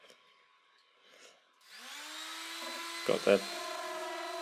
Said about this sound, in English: random orbital sander out just to smooth off the corners and the joins